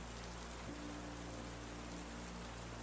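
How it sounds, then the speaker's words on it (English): Rain falling steadily at a lakeside summer camp at night, an even, dense hiss of drops with a low hum beneath, constant and unbroken, no voices. "The coolness of the rain was refreshing, the sound hypnotic."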